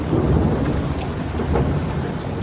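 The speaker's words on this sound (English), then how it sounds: "there's thunder and lightning, isn't there, going on" Low, rolling thunder rumbles continuously beneath steady rain, loud and enveloping with no voices.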